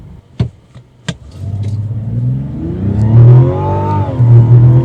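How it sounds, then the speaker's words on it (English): A 2025 Mazda CX-70's electric drive motor whines as the SUV accelerates, a rising tonal whine over low road and engine rumble after a couple of sharp knocks, growing steadily louder. "you can hear that whining, and that's that electric drive motor"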